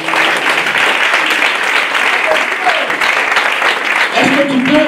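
A church congregation at a Sunday service applauds and cheers continuously, a dense, loud wash of clapping mixed with voices and shouts throughout.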